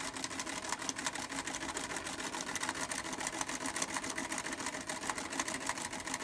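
A Singer 306 sewing machine stitches a satin stitch in a fast, steady mechanical chatter of rapid needle strokes, close and continuous throughout with no voices.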